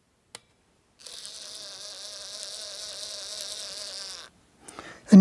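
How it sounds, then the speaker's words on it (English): A Cobalt switch machine throwing a model railway turnout gives a quiet, steady electric motor whine lasting about three seconds, preceded by a small click and followed by a soft knock and a louder thump. "you could hear the Cobalt switch machine activate"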